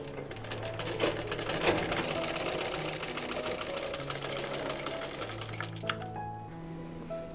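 A sewing machine stitches black piping fabric onto a child's fatua, giving a steady, rapid run of close mechanical stitching pulses that carry on alone with no talking.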